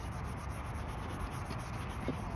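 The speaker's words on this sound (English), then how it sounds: "we're going to scrub both edges of this carefully now" Garden tool edges scrubbed with an abrasive kitchen cloth to lift surface rust, a close, continuous rough rubbing with a steady back-and-forth texture and no talk.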